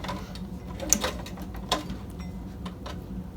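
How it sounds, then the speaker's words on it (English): A Cobra sewing machine stitches leather with a mechanical clatter of gears and ratcheting, marked by a few sharp clunks of the needle among a softer whirring hum, close and fairly clear. "while you're sewing with the Cobra machine"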